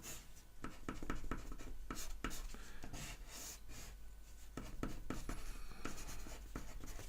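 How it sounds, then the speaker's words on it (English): A pen or marker draws a calorimeter diagram on a board, making quiet, rapid scratchy strokes and taps in irregular bursts, with short pauses between lines. "So I will draw the same calorimeter."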